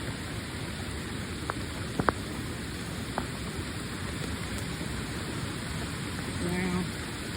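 Rainwater waterfalls pour after heavy overnight rain beside a road, making a steady broad rushing hiss with a few faint knocks and brief sounds over it.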